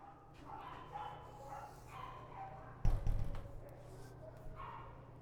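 Dogs in animal shelter kennels give a few muffled barks and yips, distant at first and then a closer, louder cluster of barks over a steady room hum.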